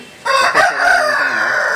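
A rooster at a poultry sale, a peacock-feather-coloured cross about a year old and roughly 2.5 to 3 kg, crows once, loud and close, with a long drawn-out call and no talking over it.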